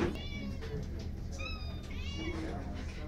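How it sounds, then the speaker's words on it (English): A feral cat meows repeatedly in rising, drawn-out calls, fairly close, over a steady low background hum and some faint voices. "I got a feral cat"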